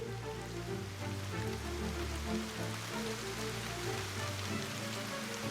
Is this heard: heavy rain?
yes